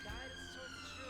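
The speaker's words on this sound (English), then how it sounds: "Sorry about the siren." A siren wails outside, its steady rising and falling tones held under a nearby voice and faint background hum.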